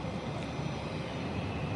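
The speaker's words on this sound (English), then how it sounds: "we're back at the north side to watch the private jet departures" A private jet departs SJU airport, its engine roar a broad, steady rushing noise heard from the north side, loud and continuous without pause.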